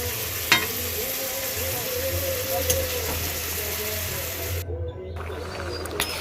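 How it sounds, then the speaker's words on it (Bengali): Rice for basanti polao frying in a pan with ground garam masala as it is stirred: a steady, close sizzle with scraping stir strokes and a few sharp clicks against the pan, and no talking. "এখন গরম মশলাটা দিয়েও ভালো করে নেড়ে চেড়ে নিচ্ছে মা।"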